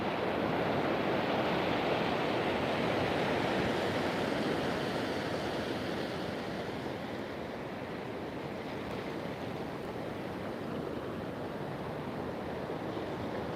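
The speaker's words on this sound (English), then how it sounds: "The sound of the ocean is really therapeutic to me." Ocean waves under a gray sky wash steadily onto the shore, a continuous broad rushing surf that stays loud and even throughout, with some wind noise mixed in and no voices.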